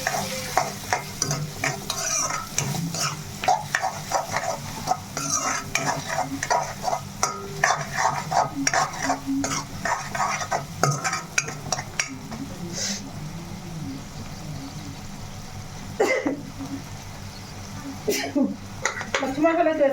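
Salted mutton biryani masala is stirred in a pan with steady scraping and spoon clatter over a soft sizzle, close and continuous, with a person talking now and then.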